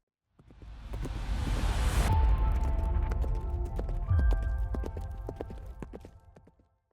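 A horse shifts about inside its stable box, hooves clomping and scuffing on the floor in an irregular run of close knocks over a steady rustling background, with no voices.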